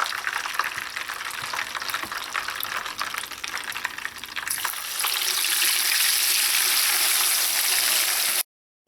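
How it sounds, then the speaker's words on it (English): Steady sizzling of chicken frying in hot oil, a dense crackling hiss that grows louder midway before cutting off abruptly. "I'm going to continue frying the rest of the chicken until I've fried out all of them."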